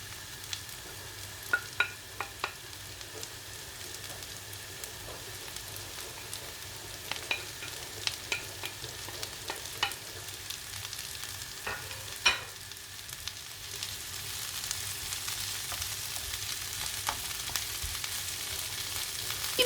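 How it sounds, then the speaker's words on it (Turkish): Peppers and softened onions fry in oil over a low flame, giving a steady close sizzle broken by scattered clicks and scrapes from a stirring utensil; no one speaks. "Biberlerin her yerine yağ gelebilmesi için şöyle bir karıştırdıktan sonra"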